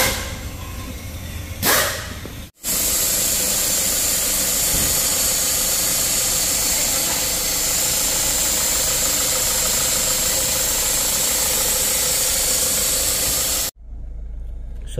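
A Mazda CX-5 2.2 diesel engine idles steadily after a twin-turbo replacement, a continuous close mechanical run with a faint hiss, bracketed by brief cutoffs near the start and end.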